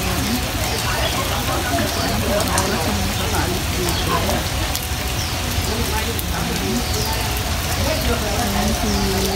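Heavy rain pours down steadily, a loud, dense patter on surfaces that continues without pause, with faint voices and other noises mixed beneath the downpour.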